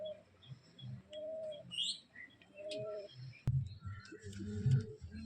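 Pet pigeons kept at home coo in soft, low, repeated phrases, joined by scattered higher chirps and one sharp click midway; the birds are close but fairly quiet.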